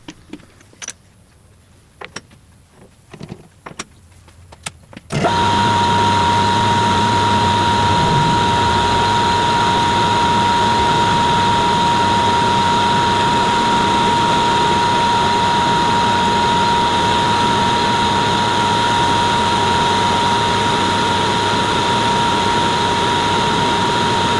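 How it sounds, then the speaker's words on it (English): A metal lathe faces off a chucked blank, finishing with a slight bevel on the edge. A few soft clicks come first, then a loud, steady machining drone with a thin constant whine runs without pause. "First step after chucking up the blank is to face it off, finishing the face off with a slight bevel on the edge."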